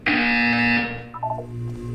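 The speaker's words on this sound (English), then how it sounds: "You will hear a buzzer." A buzzer sounds in the video game Portal 2, a single loud harsh tone lasting under a second, followed by fainter electronic blips.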